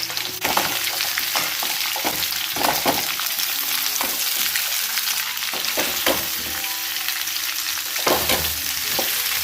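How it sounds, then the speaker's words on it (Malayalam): Chopped raw green mango is stirred in a hot pan of spiced chutney over medium flame, a loud continuous sizzle punctuated by regular scraping and knocking strokes of the spoon against the pan. "ഇനി ഇതിലേക്ക് നമ്മൾ അരിഞ്ഞു വെച്ച മാങ്ങ ഇട്ട് കൊടുക്കുക. നന്നായി ഇളക്കി യോജിപ്പിക്കുക."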